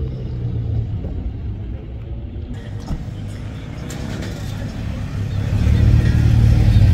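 A car engine revving at a drift car meet in Germany produces a droning, vacuum-like rumble that holds steady and then swells louder toward the end.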